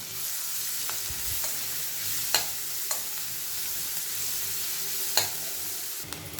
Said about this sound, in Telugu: జీలకర్ర వేగిన తర్వాత 2 పచ్చిమిర్చి, ఉల్లిపాయ తరుగు వేసుకొని కొంచెం ఉల్లిపాయలు కొంచెం బ్రౌన్ కలర్ వచ్చే వరకు వేయించుకోవాలి.